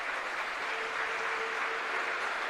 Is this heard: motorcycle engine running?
no